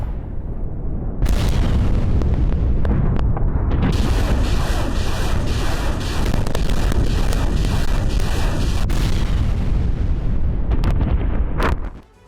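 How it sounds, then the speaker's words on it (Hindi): Heavy Russian artillery shelling in Ukraine, loud booming blasts and rumbling explosions overlapping in a dense, sustained barrage, with a brief high whine midway. "तोप से भारी गोलाबारी कर रही है"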